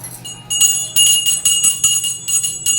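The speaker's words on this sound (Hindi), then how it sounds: "तू घंटी बजा मैं बजा दूं" A worship bell rung by hand during a home puja, giving bright metallic clangs struck in a steady, quick rhythm, close and loud, with a ringing tone that carries between strikes.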